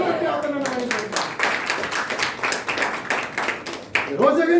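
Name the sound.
church congregation clapping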